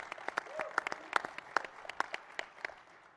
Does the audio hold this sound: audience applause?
yes